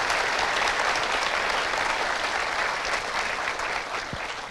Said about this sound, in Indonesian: Kita berikan aplaus orang tua tercinta.